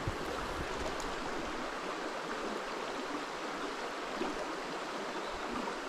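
Low river water running steadily over stones in a wild brown trout stream, a constant soft rushing wash at moderate distance with no voices.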